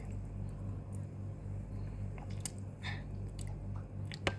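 Someone chews a translucent, grape-like fruit close to the mic, giving soft, wet squishing bites over a steady low background hum, with no talking.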